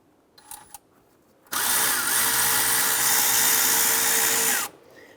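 A power tool loosens a 13mm nut on the intake of a 2011-2018 Ram, running as one loud, steady whir for about three seconds after a few faint clicks, then stopping.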